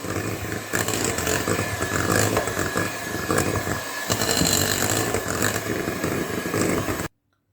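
Electric mixer beating cake batter of cream and eggs for a fruit and nut cake, a steady loud motor whir running continuously for about seven seconds, then stopping abruptly.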